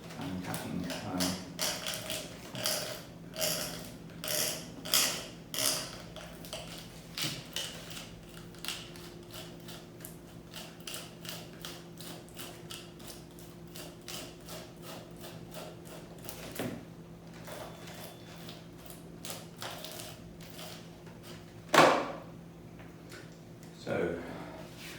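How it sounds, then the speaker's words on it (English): An uncapping comb scrapes wax cappings off a honeycomb frame during honey extraction, in repeated rhythmic scratchy strokes that later thin out, with a voice talking throughout. "So I think I'll have to use the uncapping comb."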